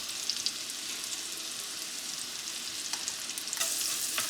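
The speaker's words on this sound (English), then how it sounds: "Just a quick little saute." Soft, steady sizzling of salted mushrooms sautéing in a pan without browning, with faint crackles and a few light stirring scrapes near the end.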